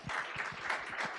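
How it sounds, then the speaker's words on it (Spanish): Faint, steady applause from an audience at an organizational psychology session, honoring a doctor, as a soft continuous patter with a few low thumps. "Démosle un fuerte aplauso al doctor."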